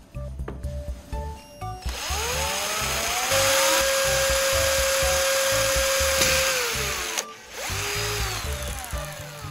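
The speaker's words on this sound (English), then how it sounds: "I'm just drilling a hole right in the middle of the cap." A power drill whines steadily as it bores through a plastic cap, the motor pitch dipping under load, then a brief pause and the drill restarting.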